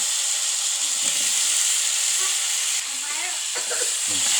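Chicken feet spit and sizzle in hot oil in a pan, a steady loud frying hiss throughout with small crackles, while a voice talks quietly underneath.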